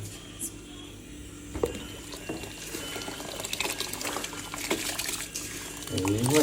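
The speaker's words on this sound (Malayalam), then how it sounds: "അപ്പോൾ അരി നമ്മൾ അതിലേക്ക് വെള്ളം ഊറ്റുകയാണ്" Water poured off cooking rice in a home kitchen, a steady rushing, splashing flow that swells louder toward the end, with faint voices in the background.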